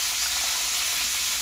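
Green peas go into khichuri of rice and dal cooking in a wok, producing a loud, dense hiss and sizzle that holds steady for the short moment, near and without talk.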